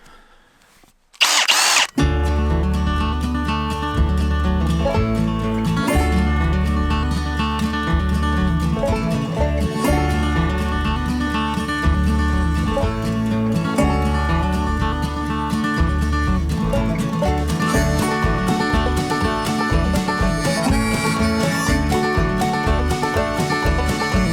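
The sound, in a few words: power drill drilling ventilation holes in 3/4 inch plywood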